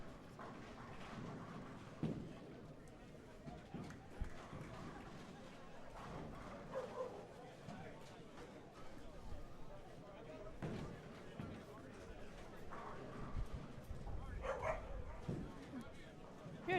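A dog whimpers and gives short barks in a crowded, noisy room, its yelps surfacing now and then through steady chatter and background commotion.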